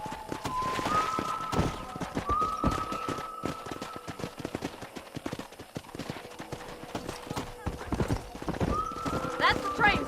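Rhythmic horse hooves clip-clop steadily under talking in the video game Red Dead Redemption, with a few neighs and whinnies rising above the hoofbeats.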